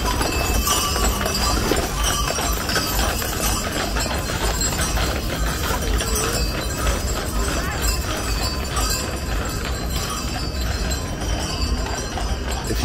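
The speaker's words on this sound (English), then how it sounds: "a little bit of reminders that these horses are real." Paulaner brewery draft horses clip-clop along the grounds at Oktoberfest in Munich, a steady patter of hooves blended into the dense crowd murmur and festival bustle.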